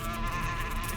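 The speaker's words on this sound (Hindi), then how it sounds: "मधुमक्खी के छत्ते को छेड़ना" Bees swarm around a beehive in a forest, a dense, continuous buzz close up, loud and unbroken from start to finish with no voices.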